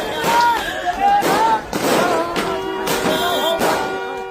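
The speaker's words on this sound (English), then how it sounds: "Car catches fire after firecrackers have burst on its roof during a wedding in Rajasthan." Firecrackers crackle and pop on a car roof in repeated loud bursts at a wedding in Rajasthan, with people shouting and talking over the noise throughout.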